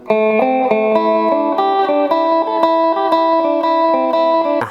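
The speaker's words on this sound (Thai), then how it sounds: "เปิดดีเลย์ขึ้นมา" A plucked electric phin plays a quick, steady run of notes through a delay effect, each one trailing into soft repeating echoes that smear the melody together.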